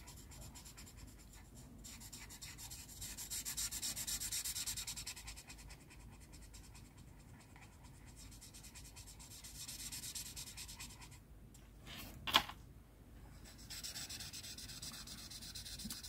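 Cheap alcohol-based marker scratching and rubbing across paper, with erasing and layering strokes, close and continuous, with a sharper squeak or tap partway through.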